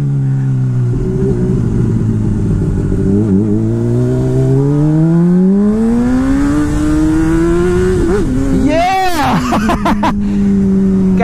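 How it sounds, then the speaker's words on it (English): Honda CBR600RR sport motorcycle engine revving up through the gears, a loud close whine climbing in pitch with short dips at shifts, then a sharp high-pitched rev burst before settling to a steady drone. "Gotta hear that engine."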